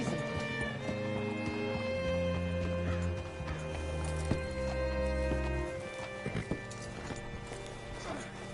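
Horse hooves clip-clop steadily with a brief whinny in the video game Red Dead Redemption 2, set against a sustained low musical drone and faint background sounds.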